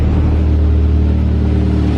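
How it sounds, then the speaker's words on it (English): A Nissan B13 Sentra, freshly tuned and with its cooling system being worked on, idles in a loud, close, steady low rumble that stays even throughout, with no talking. "I have the car idling"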